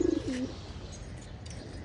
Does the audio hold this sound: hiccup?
no